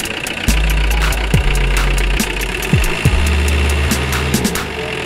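A Mercedes 508D truck diesel engine runs with a new exhaust manifold and exhaust, a loud, steady, close-up idle with a low rumble and rhythmic knocking pulses throughout.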